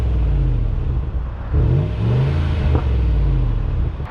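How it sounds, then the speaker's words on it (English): A white 2013 Range Rover Sport with a 5-liter V8 rumbles at idle, its deep exhaust swelling briefly with a couple of revs before settling back, close and steady throughout. "So here's going to be an exhaust clip"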